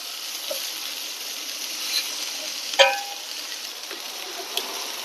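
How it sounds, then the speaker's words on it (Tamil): Masala and vegetables roast in a pan over low heat, giving a steady soft sizzle and hiss, with a few sharp clinks and scrapes as they are stirred. "இந்த மசாலா கொஞ்சம் எல்லாத்துக்கும் பரவற மாதிரி நிதானமாக வச்சு ரோஸ்ட் பண்ணிக்கோங்க"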